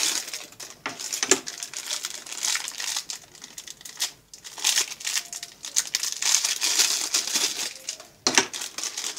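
Plastic packaging around paracord survival bracelets being opened and handled, a run of sharp crinkling and rustling bursts in an irregular rhythm, close by and moderately loud, with brief pauses between handfuls.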